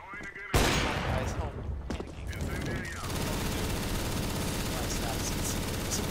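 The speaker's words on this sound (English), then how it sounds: "Suppressing fire!" Sustained automatic gunfire in Counter-Strike on the Dust2 map, breaking out abruptly after a brief quieter lead-in and continuing as a dense, loud, unbroken barrage of overlapping shots to the end.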